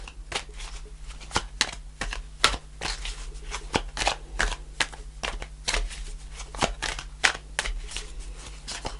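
Tarot cards riffled and shuffled by hand in a quick run of crisp, papery flicks and snaps, close and fairly loud, ending as a single card is drawn from the deck.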